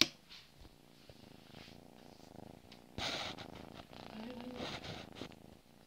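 A domestic cat purrs close up with a steady, continuous rumble that runs the whole time, mixed with handling rustle and a soft voice in the background.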